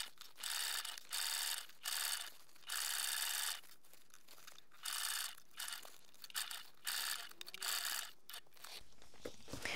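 A sewing machine bastes fabric for a toiletry bag at a shorter stitch length, whirring in about eight quick rhythmic bursts separated by brief pauses, close and clear, with a faint click at the end.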